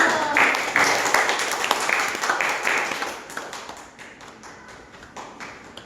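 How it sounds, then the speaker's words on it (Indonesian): Elementary school classmates clapping their hands during a group presentation in class, a close burst of claps that gradually thins and fades out. "Beri tepuk tangan dulu dong"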